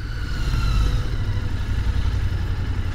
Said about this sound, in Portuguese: esse motor bicilíndrico maravilhoso